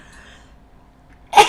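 A single sharp sneeze bursts out at the very end after near silence.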